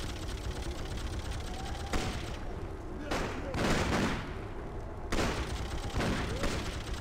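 Minigun fire in the shooter Freedom Fighters, sustained rattling bursts broken by short pauses, loud and continuous, with players chatting over the shooting.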